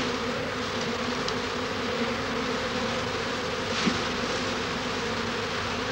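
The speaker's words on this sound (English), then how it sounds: "Now I'm going to try and encourage these bees to stay in the hive by placing the queen bee in there." A swarm of honey bees buzzes around a hive in a dense, steady drone close by, with no voices.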